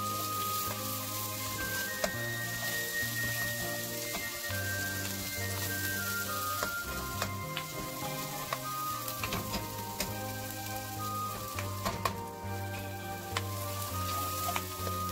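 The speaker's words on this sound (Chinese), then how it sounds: "炒辅料的时候一定要转大火才会香哦。" Ginger and onion aromatics stir-fried over high heat, a steady loud sizzle with a low hum underneath and occasional scraping stir strokes throughout, with no talking.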